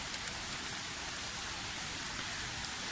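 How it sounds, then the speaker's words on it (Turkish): Steady rain falls at a waterfall campsite by Çaylak Waterfall, a dense, even hiss of drops that continues without pause and with no voices. "Biraz yağmurun geçmesini bekleyeceğim."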